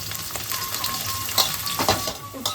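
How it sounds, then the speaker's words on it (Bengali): Sliced bitter gourd frying in hot mustard oil gives a dense, close sizzle with stirring scrapes swelling through it, loud and continuous without any voices. "এবার আমি কেটে রাখা উচ্ছেটাকে ভেজে নিচ্ছি"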